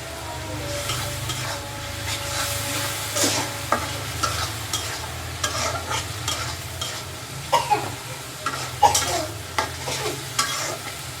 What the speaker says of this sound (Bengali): এখন চিংড়ি মাছ কয়টা দিয়ে দেবো।